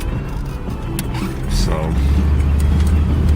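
A Chrysler Concorde car driving, a steady low engine and road rumble that builds slightly louder, with someone speaking briefly inside the cabin.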